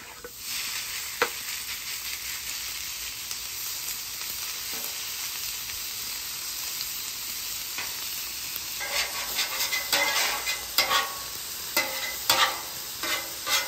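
Mushrooms and onions frying on a flat griddle, a steady close sizzle with scraping and tapping of a spatula as they are stirred together, growing busier toward the end, with no speech.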